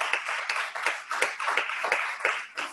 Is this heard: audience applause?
yes